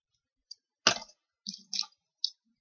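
Cutting through a pinecone for a DIY Christmas pinecone ball decoration: a sharp crunching snap followed by a few short clicks and cracks, close and fairly quiet with silence between.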